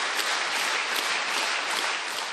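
Loud, dense applause fills a main hall as the audience stands to greet Tatarstan's president Rustam Minnikhanov, steady and sustained without a break.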